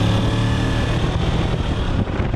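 A Kawasaki Ninja 300 BS6 motorcycle engine runs loud and steady throughout, a dense continuous drone with no talk over it.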